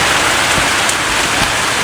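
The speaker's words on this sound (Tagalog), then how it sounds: "mas malakas pa yung patak ng ulan" Heavy rain pours steadily and close by, a dense, unbroken hiss of drops striking surfaces, with no voices over it.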